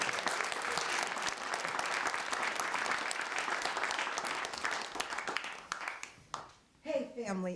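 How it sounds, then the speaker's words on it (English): Enthusiastic crowd applause at a StorySLAM storytelling show fills most of the stretch as a loud, dense roar of clapping, then fades near the end as a voice begins talking. "We need an extra special round of applause."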